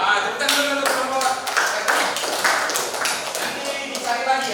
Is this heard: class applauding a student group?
yes